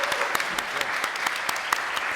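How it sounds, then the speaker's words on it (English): Audience applause at a health conference, honouring the event team: a steady, dense wash of many hands clapping throughout, with a few sharper claps standing out. "So if we could give a round of applause to the team,"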